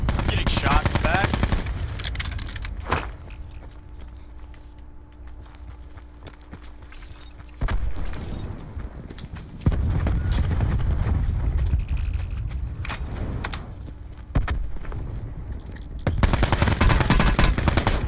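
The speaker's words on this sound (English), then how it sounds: "I'm getting shot in the back." Gunfire rattles in the Call of Duty Blackout video game: bursts of rapid automatic shots come in loud clusters separated by quieter stretches, including a long sustained barrage near the end.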